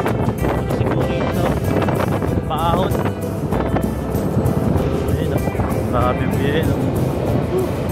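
Strong cold wind on a mountain buffets the microphone in a constant roar, with people talking through it the whole time.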